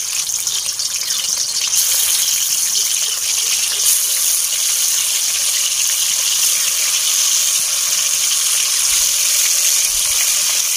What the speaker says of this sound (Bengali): এবার আমি একটা একটা করে মাছটাকে ভেজে নেব।